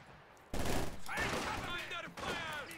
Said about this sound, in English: Nice work from the PPSH. Submachine guns.